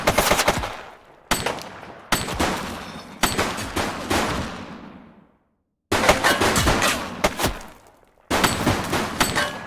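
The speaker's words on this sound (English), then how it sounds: "Shots fired!" Gunfire in the police video game The Precinct: loud, close bursts of rapid automatic shots, several separate volleys with short gaps between them, each trailing off into an echoing decay.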